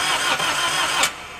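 An aerial work platform's engine is cranked over, a loud, broadband churning burst that swells briefly and then settles into a lower, steadier running sound.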